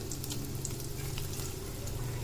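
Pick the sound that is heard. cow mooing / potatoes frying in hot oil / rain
potatoes frying in hot oil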